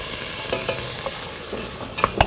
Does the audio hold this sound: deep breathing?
no